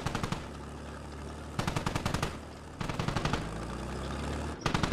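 An NSV heavy machine gun fires in Squad, loud bursts of rapid, rhythmic shots separated by short pauses, with a steady engine rumble underneath.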